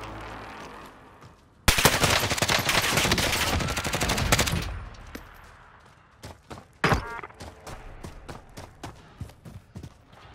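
Gunfire in the video game Call of Duty Modern Warfare: a sustained loud burst of automatic fire, then a scatter of separate sharp shots and short volleys, some near and some more distant.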